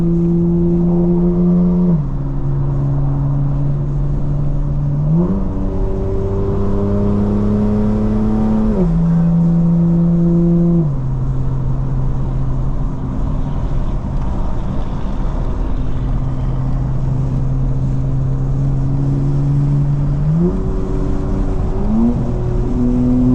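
A car engine revs and pulls hard while driving on city roads with exhaust burbles switched off, loud and close, its pitch climbing through gears and dropping at each shift, with no talk over it.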